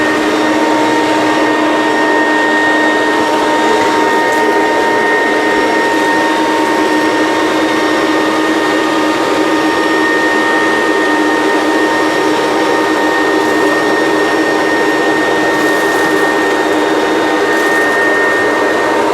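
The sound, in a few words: vacuum cleaner with hard floor tool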